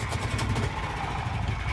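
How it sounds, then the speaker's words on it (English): A go-kart with a Predator engine and a modified clutch sits idling, giving a steady low putter at moderate volume with an even rhythm and no revving. "when the cart is sitting there idling, it doesn't move when it idles"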